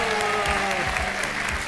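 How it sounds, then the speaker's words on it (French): Studio audience claps for two contestants on a French television game show, a brief burst of dense, steady applause filling the room. "Alors, nos deux candidats s'appellent, et je vous demande de les applaudir, Camille et Damien."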